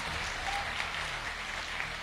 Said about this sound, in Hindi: एक बार जोरदार तालियां होनी चाहिए इनके लिए।